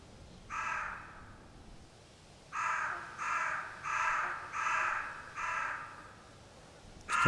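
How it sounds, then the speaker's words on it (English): Crows caw in a forest sound design scene: one call, a pause, then a run of five evenly spaced harsh caws, moderately distant over faint wind ambience. "Crows are starting to be present here in this area."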